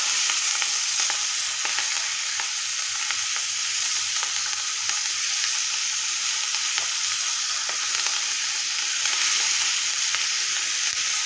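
Ponnaganti leaves get stirred in a hot frying pan, a steady bright sizzle running throughout with soft repeated scrapes of the spoon, close and loud with no voices.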